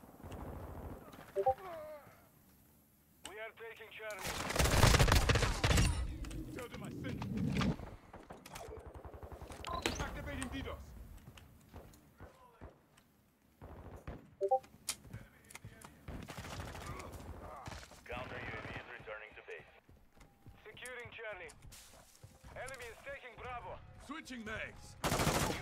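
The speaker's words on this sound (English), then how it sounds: "Oh, gonna shoot him." Call of Duty MW2 gameplay with bursts of automatic gunfire and single shots in uneven clusters, one loud blast near the start, mixed with radio-style voices and brief chatter.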